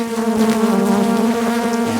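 Bees from one of the biggest, strongest hive colonies, called gunslinger bees, buzz loudly and close, a dense continuous drone with a steady pitch that wavers slightly as they move around.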